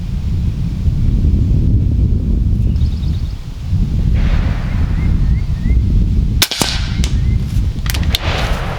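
Heavy, steady wind buffets the microphone at an outdoor shooting range with slug rifles, making a loud low rumble throughout, broken near the end by a sharp gunshot crack.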